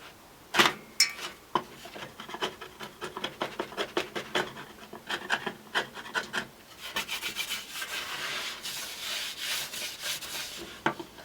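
A chisel eases wood filler off a wooden surface while the base of a puja table is being built: close, repeated scraping and rasping strokes in an uneven rhythm, denser and more continuous toward the end.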